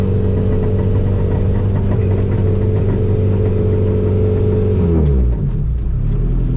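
A Ford EF hatch engine revs steadily and loud at close range, holding a rough, rich note before the revs drop away near the end.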